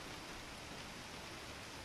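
Steady, dense rain hisses evenly throughout, a continuous wash of falling water with no voices.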